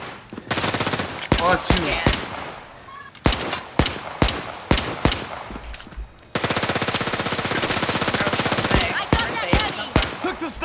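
Rapid gunfire aimed at snipers in a Walking Dead zombie video game, loud repeated bursts followed by a sustained automatic stream, with a brief spoken remark.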